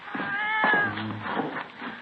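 A house cat gives a single drawn-out meow close by inside a room, set against a dull, muffled indoor background.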